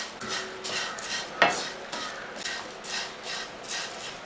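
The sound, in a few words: stirring sesame seeds and flattened rice in a pan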